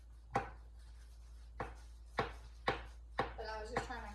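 A knife chopping off the hard stem ends of vegetables on a cutting board, five or six sharp, separate cuts, close and clear in a quiet room, with a brief voice near the end.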